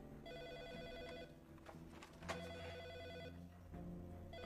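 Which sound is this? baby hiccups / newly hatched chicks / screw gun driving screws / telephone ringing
telephone ringing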